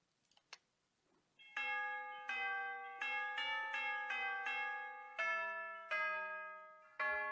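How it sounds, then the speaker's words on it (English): Deep, resonant tubular bells strike one after another in a slow, descending pattern, each tone ringing out and overlapping the next, after a few faint clicks. "bells, tubular bells."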